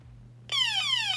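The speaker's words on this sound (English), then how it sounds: "It's like a weird Kmart kind of buzzer." An electronic alarm buzzer from a vintage Starship Eternia toy playset: after a faint low hum, a loud, harsh, rapidly warbling siren tone starts abruptly and continues steadily.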